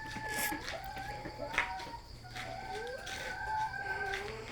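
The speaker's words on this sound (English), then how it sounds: "The old chooks are still moving about." Chickens on a farm cluck and call in the distance, with some drawn-out crowing-like notes over a faint low hum, fairly quiet overall.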